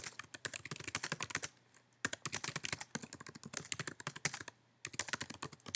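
Typing a comment on a computer keyboard, rapid close key clicks in three quick bursts separated by short pauses, alone and clear.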